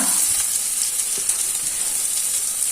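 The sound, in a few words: onions frying in a pan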